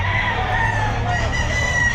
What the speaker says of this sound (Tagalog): Ayan kay Boss Manny, yung mga manok niya, sir, oh